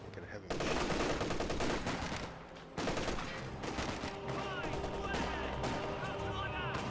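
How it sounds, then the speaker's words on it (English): Video game battle gunfire in Company of Heroes 2 rattles in dense bursts of machine-gun fire and scattered shots, loud and continuous with a short lull, mixed with in-game voices calling out. "Taking fire over here!"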